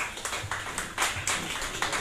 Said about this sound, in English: Please clap them while they come up.